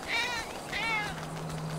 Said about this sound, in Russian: Он постоянно мяукает.